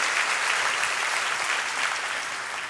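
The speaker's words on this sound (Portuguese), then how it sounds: "pode dar uma salva de palmas assim ao Senhor" A church congregation at a Portuguese-language worship service claps together in a loud, steady wash of applause that holds evenly throughout.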